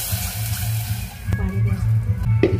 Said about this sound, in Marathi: तोपर्यंत टाकू पाणी